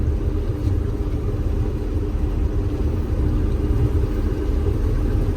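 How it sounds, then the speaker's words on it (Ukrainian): A GAZ truck pulls away from a sunflower field after harvest, its engine a steady low rumble throughout, moderately loud and fairly close, with no voices. "Оце вже один газон поїхав"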